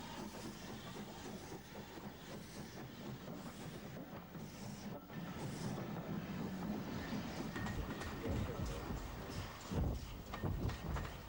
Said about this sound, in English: A mainline stopping train hauled by an early S15 contrasts with a brand new